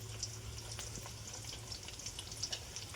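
Guar beans cooking with spices in a pan give a faint, steady sizzle with light crackles and occasional soft stirring, heard close but quiet.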